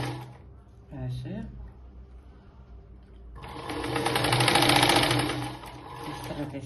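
A sewing machine stitches a blouse, starting after a brief spoken remark and running steadily and fairly loud for several seconds with a rapid mechanical whir.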